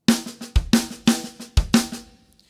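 A drum kit plays a fast linear fill, with crisp snare and tom strikes and kick thumps alternating in a quick repeating pattern, soft ghost notes between them, close and dry, ending in quiet decay.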